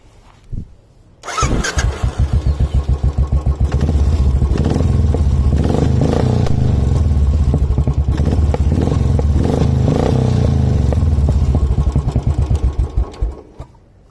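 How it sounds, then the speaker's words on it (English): A Royal Enfield Bullet 500 motorcycle with a modified exhaust starts up and settles into a loud, close thumping idle. Its beat quickens and swells as the engine is revved repeatedly, then drops back before the engine cuts off. "When I rev it up a little hard, it pops also. It pops and crackles."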